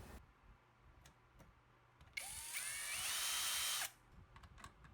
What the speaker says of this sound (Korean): 앰프 모듈 두 개를 케이스에 장착하고 나사를 최종 고정합니다.